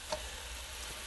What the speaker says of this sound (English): Right now we're just frying up the beef right now.